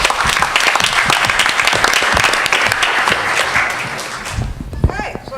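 Loud, energetic applause from an audience at a university research colloquium after a presentation, dense clapping that rolls on for several seconds before tapering off as a voice and a few stray sounds break through.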